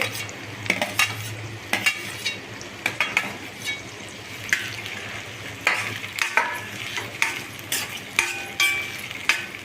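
Grated coconut is stirred and roasted in oil in a pan, with a soft continuous sizzle under repeated scraping and clinking strokes of a spoon against the metal, close and steady throughout.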